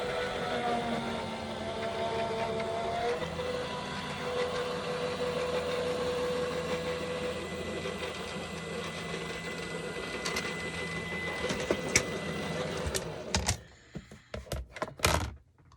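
A card-making die-cutting machine runs steadily as a snowflake card passes through it, a continuous mechanical hum and whir with a few sharp clicks and thunks near the end as the card comes out.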